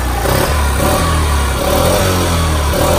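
Yamaha TownMate 50cc four-stroke motorcycle engine running loud and close, a buzzing mid-pitched drone that revs up and eases back in a few short swells over about three seconds.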